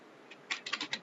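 A computer keyboard clicks as JavaScript code is typed for a puzzle game, a quick run of about six soft, close keystrokes in a quiet room.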